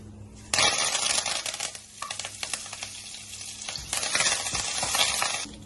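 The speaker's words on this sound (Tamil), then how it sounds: "எண்ணெய் நல்லா காஞ்சதுக்கு அப்புறமா பட்டை, கிராம்பு, ஏலக்காய் போட்டுக்கலாம்." Cinnamon, cloves, cardamom and curry leaves dropped into hot oil, crackling and sizzling loudly up close with bursts of spattering and stirring scrapes, no voices.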